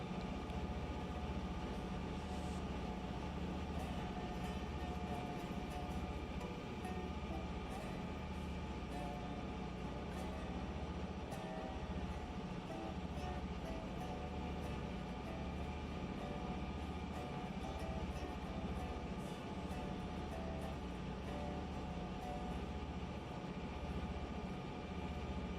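A train in the Railroader game rolls steadily along the rails, a continuous rumbling run with rhythmic wheel clatter throughout, loud and close, with no talking.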